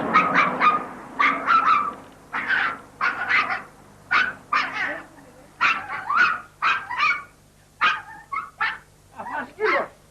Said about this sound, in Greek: Έχει σκύλο μέσα.